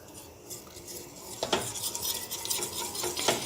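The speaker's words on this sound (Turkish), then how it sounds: "bir çırpıcı yardımıyla daha eşit bir şekilde karıştırabilirsiniz" A whisk stirs an orange dessert mixture for a New Year's treat, giving a soft scraping, clinking rhythm against the bowl that picks up partway through, fairly quiet and close with no talk.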